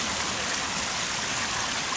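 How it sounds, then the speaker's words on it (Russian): Constant rushing water of a small waterfall in a park by the Rhine, a soft, even hiss heard from a short distance, without any voices. "Зайдем сейчас в водопад, посмотрим."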